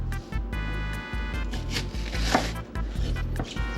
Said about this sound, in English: And then we're just going to go ahead and chop them up.